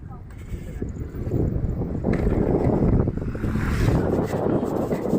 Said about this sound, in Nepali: चिसो हावा छ यहाँ धेरै।